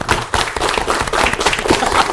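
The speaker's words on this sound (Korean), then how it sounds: "박수 한번 합시다." Applause from a Korean church lecture audience during a Bible class session, a short burst of dense clapping that fills the moment without talk over it.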